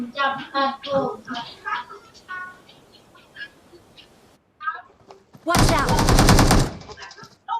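Bursts of rapid gunfire from a shooting video game, a loud dense volley lasting about a second near the end, after stretches of excited talking.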